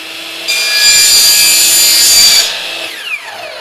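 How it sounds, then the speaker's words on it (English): A saw cuts through 3-inch PVC pipe in a close, loud, continuous rasping stroke lasting about two seconds, followed by quieter scraping and a brief knock. "I'm cutting a number of these sections to 6 inches in length."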